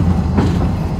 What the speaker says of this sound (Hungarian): tulajdonképpen most már a pusztában villamosozunk